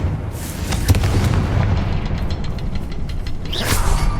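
A Confringo fire spell blasts in Hogwarts Legacy: a heavy, rumbling boom with a sharp crack near the start, followed by sustained low roar and crackling debris, plus a brighter burst near the end.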